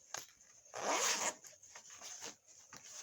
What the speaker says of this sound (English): Then there's another zipper in here.